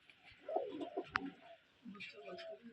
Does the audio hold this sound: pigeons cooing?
yes